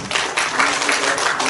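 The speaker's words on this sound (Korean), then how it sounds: "박수로 우리가 모시겠습니다." An audience at a Gwangju lecture event claps continuously in dense, steady applause filling the room to welcome a speaker to the stage.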